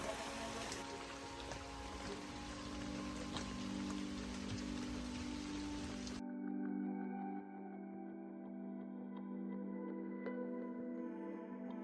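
Rain falls on a Philippine island in a steady, dense patter of drops, bright and close at first, then abruptly muffled and duller partway through.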